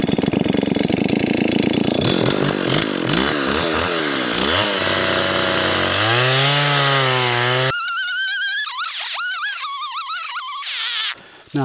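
A nearby chainsaw snarls through a cut, its engine pitch dipping and climbing as it bogs and recovers, then screams at high revs.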